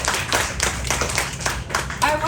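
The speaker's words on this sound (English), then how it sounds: "one more round of applause" A brief burst of audience applause at a cultural event with Cambodian costumes, uneven clapping mixed with voices talking over it.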